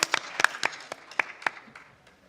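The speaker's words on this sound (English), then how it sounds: "Let's give him a round of applause" Scattered hand claps from a small dinner audience welcoming Peter Strauss, executive director of Team Prime Time, at a wellness and sports celebration; sparse, uneven claps that thin out and fade over a couple of seconds.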